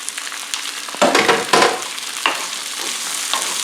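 Black beans tip into a hot pan of serrano sofrito with garlic, setting off a loud burst of sizzling and stirring scrapes, two strong surges near the start and softer frying hiss continuing after, with no talk.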